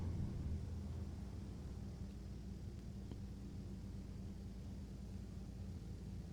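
Bombardier Dash 8 turboprop engines idling on approach, a steady low rumbling drone heard from inside the cabin, continuous and even with no voices.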